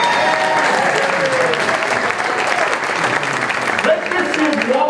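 A crowd at an athletic hall of fame induction applauds inductees with steady, full clapping that holds at an even loudness throughout, with a few voices mixed into the applause.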